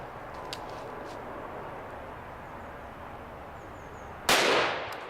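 A revolver shot fired at a Kevlar face mask target outdoors: one sharp, loud blast near the end, decaying over the final second, after a steady background hiss.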